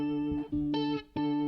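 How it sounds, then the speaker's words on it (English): A synth melody in FL Studio 21 plays with vibrato switched on, sustained tones wobbling in pitch over a few short phrases, clear and close with no talking. "And maybe turn this vibrato on this setting here."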